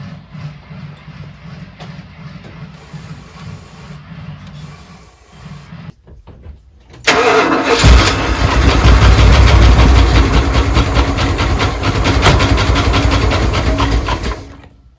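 Dodge Prospector engine, freshly installed, quiet cranking at first, then firing up at about seven seconds into a loud, steady idle that runs on without pause.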